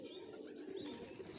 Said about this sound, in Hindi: ये ले जी दूसरा कबूतर है जी